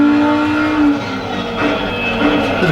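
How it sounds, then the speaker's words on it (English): A race car in Assetto Corsa Competizione on PS5 drones with a steady engine tone and a brief high tire squeal as it begins to slide, loud and close. "The car's about to go into a slide."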